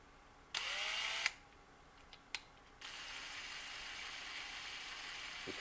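A cordless drill with a hand-tightened 3-jaw chuck whirs in two bursts, first a short spin and then a longer steady run, with a few sharp clicks from the chuck in between.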